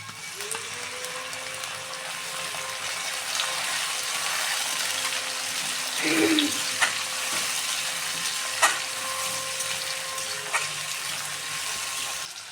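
Chopped tomatoes frying in a pan for egg pasta, a steady bright sizzle with a faint running hum and a few soft stirring knocks, close and even throughout, no talking.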